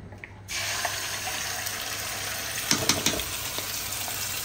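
Tap water runs steadily into a kitchen sink while rinsing during home cooking, starting abruptly after a brief quiet moment and continuing as a constant close gush with a few louder splashes.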